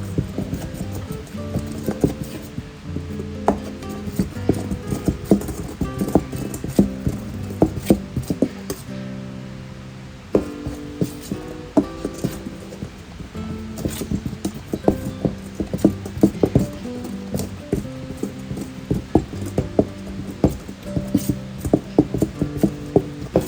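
Akara batter of unpeeled beans being mixed by hand, continuous irregular clacking and scraping strokes in a bowl, close and fairly loud, rhythmic but uneven throughout, with no talking.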